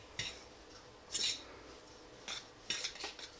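A spoon scrapes and clinks against a bowl while flour, sugar, salt and dry yeast are roughly stirred together, giving a few short bursts of scraping with quiet gaps between them.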